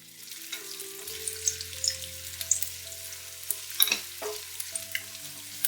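Cashews and raisins fry in a pan for lotus seed payasam, giving a steady sizzle with occasional stirring scrapes and clinks; no one speaks.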